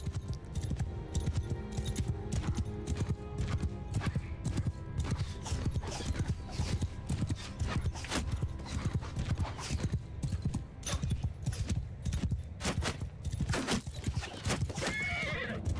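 Cavalry horses gallop in the video game Mount & Blade II Bannerlord, a dense continuous drumming of many hooves, loud and close, with occasional whinnies and clattering over the steady pounding.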